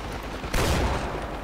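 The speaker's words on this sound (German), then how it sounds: "Oh, oh, sie schießen schon auf mich." Enemy gunfire in the Far Cry 4 co-op game, a dense burst of shots that starts suddenly midway and holds loud and steady, with a low rumble beneath.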